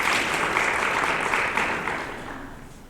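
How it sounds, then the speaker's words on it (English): A meeting audience gives Ahmad a round of applause, a dense wash of clapping that holds steady and then gradually fades away. "Let's give him a round of applause"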